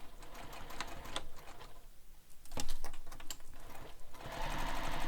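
A sewing machine runs a long basting stitch through layers of bag fabric, a steady mechanical patter with brief pauses and restarts, close and alone.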